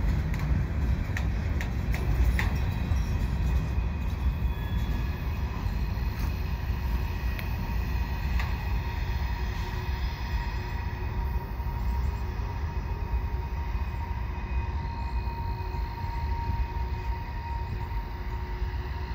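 CN freight train rolling slowly past at St Henri in Montreal, a steady rumbling wash of wheels and wagons at moderate distance, with occasional metallic clanks and squeals early on and no talk.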